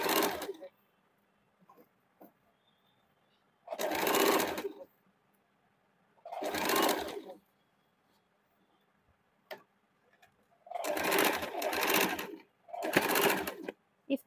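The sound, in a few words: sewing machine stitching saree kurti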